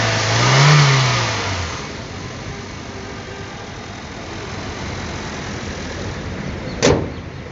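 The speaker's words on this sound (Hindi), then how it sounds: "1500 cc inline 4 cylinder petrol engine इस गाड़ी में इंस्टॉल्ड है" A 2019 Honda BR-V's 1.5-litre inline four-cylinder petrol engine revs up once near the start, then settles into a steady idle hum, with a brief sharp knock late on.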